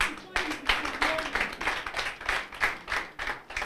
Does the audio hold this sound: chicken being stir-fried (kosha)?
no